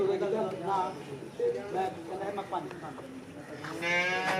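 Cattle lowing amid a busy outdoor crowd, with people talking throughout; a longer, louder moo rises near the end.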